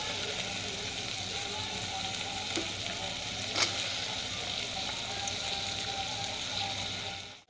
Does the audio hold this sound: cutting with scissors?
no